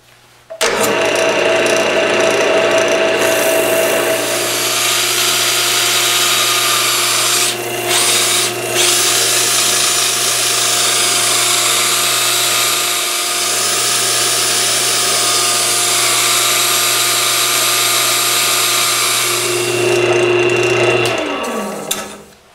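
Steady loud whirring of a power sander running against a maple bowl for about twenty seconds, with a brief dip partway through before it winds down.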